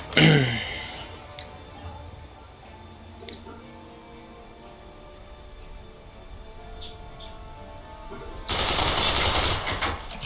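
Weapons fire in the fort-building game Forts, with a loud blast at the start, scattered faint ticks and pops, then a loud burst of rapid gunfire near the end.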